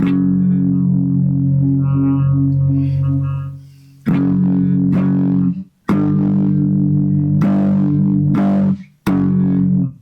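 Clean electric guitar power chords ring out through a vintage-style phaser pedal, sustained and swirling, struck again several times with brief pauses between.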